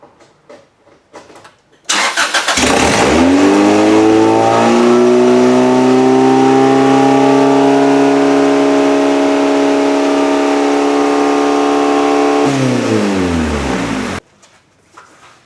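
A 1994 Acura B18B engine, freshly swapped into a track racing car with a piece of exhaust still unconnected, cranks and catches, then runs loud and steady for about twelve seconds before shutting off.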